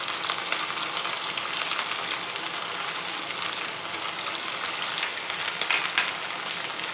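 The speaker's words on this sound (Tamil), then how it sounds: "இன்றைக்கே வந்து எண்ணெய் காஞ்சிருச்சு. உப்பு கண்டத்தை போட்டு வறுத்தெடுப்போம்" Salted dried meat, uppu kandam, frying in hot oil, a dense, even sizzle that hisses steadily at close range for the whole stretch, with no speech over it.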